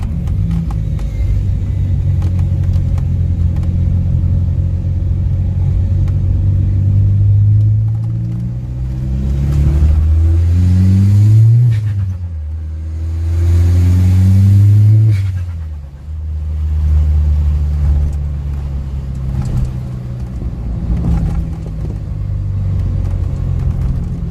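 A VW Golf 4 with a 1.9 TDI diesel engine accelerates in repeated pulls, its deep rumbling drone rising through each gear with brief dips at the shifts, loud and close throughout with no speech.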